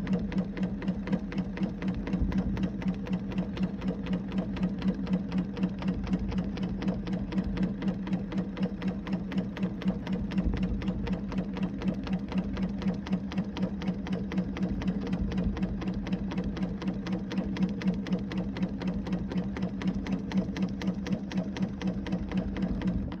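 A sewing machine stitches a whole cloth quilt with a steady, rapid mechanical chatter, running at an even pace, moderately loud and close, with no talk for over twenty seconds.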